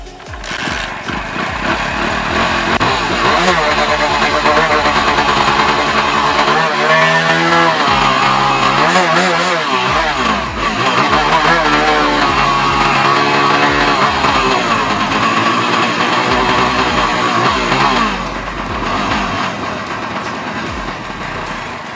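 A motorcycle engine runs on petrol fed from its carburetor, a loud, steady, close drone that holds for the full stretch with slight rises and dips in revs.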